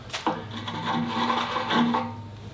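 A sharpening stone scrapes across painted metal bucket hooks on a John Deere 2025r tractor, a few short gritty rubbing strokes, close and moderately loud with no talk.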